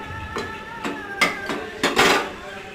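Mushroom masala sautéed in a pan, a spoon striking and scraping the metal in a handful of distinct clanks at an uneven pace, close and moderately loud over a faint frying hiss.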